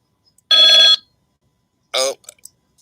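A telephone rings twice during a live stream, two short bursts of ringing separated by about a second of silence, fairly loud and close, followed by a few faint clicks.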